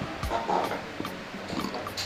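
Water is poured onto oats, splashing and trickling in short bursts, a close, wet pouring sound with a few soft drips and squishy clicks.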